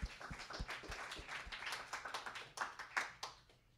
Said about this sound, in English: Yes, let's clap for Eric.